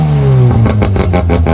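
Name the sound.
Mazda RX-7 rotary engine revving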